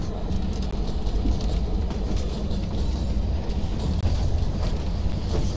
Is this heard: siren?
no